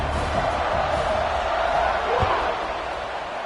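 Stadium crowd at a college football game, Florida State against Duke, making a steady, broad roar of cheering at kickoff, with a commentator's voice running over the noise throughout.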